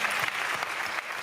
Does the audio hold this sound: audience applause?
yes